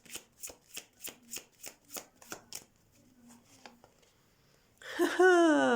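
Oracle cards being shuffled by hand in a run of about eight quick, even riffling bursts, close and clear, tapering into a few softer shuffles before a brief loud burst at the end.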